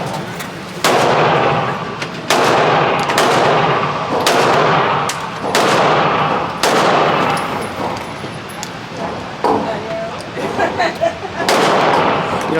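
Gunshots at an outdoor shooting range, a series of loud, sharp reports spaced a second or two apart with echoing tails, then quicker shots toward the end, with people talking between them.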